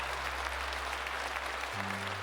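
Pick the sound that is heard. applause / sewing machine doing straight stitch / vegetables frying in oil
applause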